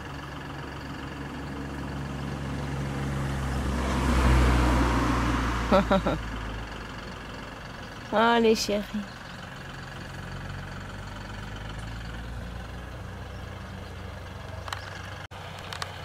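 A tractor approaches first and then a car arrives in a rural outdoor setting, a low engine rumble swelling mid-clip over steady background hum, with brief bird chirps and a short spoken phrase.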